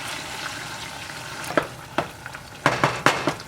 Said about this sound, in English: I mix it up with a spoon, the wooden spoon.